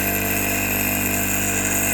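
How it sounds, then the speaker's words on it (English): A Churchill surface grinder runs continuously, a steady loud whine with strong tonal hum, unchanging throughout with no pauses. "we've got the grinder going"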